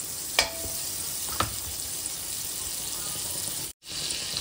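Butter melting in a hot pan for white sauce, giving a steady, fairly loud sizzle with a couple of sharp clicks early on and a brief dropout near the end, close and without talk.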